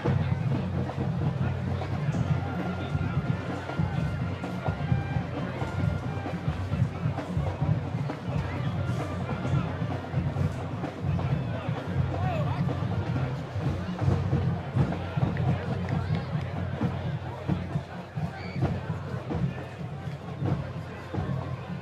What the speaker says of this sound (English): we'll take that crowd level down a little bit, Connor.